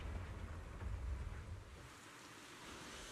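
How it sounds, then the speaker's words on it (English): Steady rain falling in a video game scene, a continuous broadband hiss with a low rumbling layer that eases after the first couple of seconds, no voices over it. "Why it's really raining."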